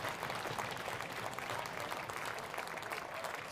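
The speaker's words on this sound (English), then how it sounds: "Standing ovation from the crowd." A standing ovation from the crowd at a college Division III hockey game between Calvin and Hope, a steady wash of distant applause heard throughout.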